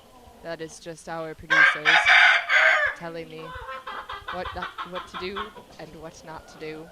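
Chickens cluck and a rooster crows close by, mixed under someone talking over them throughout.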